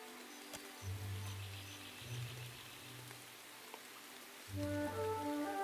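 Rain falling in the harbor town of Port Maje in Pillars of Eternity II: Deadfire, a soft, steady patter under low humming tones and a quiet musical score, with no talk.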